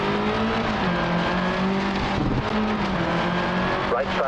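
Rally car engine droning steadily in Sebastien Loeb Rally Evo on a dirt stage, with a constant buzzing tone shifting slightly in pitch and a gritty wash of dirt and gravel hitting the car underneath.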